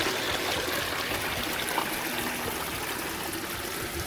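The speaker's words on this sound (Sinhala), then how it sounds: "ලෝකාන්තරේ නගින්න තරම පොඩි වතුර පාරක් තියෙනවා" A small, clear, cold mountain stream near Punchi Lokanthaya in Sri Lanka flows in a continuous close trickling rush, steady and unbroken with no voices.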